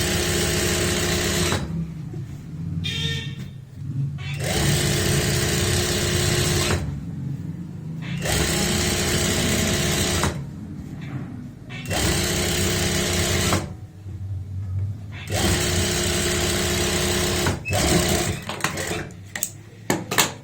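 A sewing machine stitches a seam on lined trousers, running in steady, loud bursts of a few seconds each with short pauses between them, and no voices.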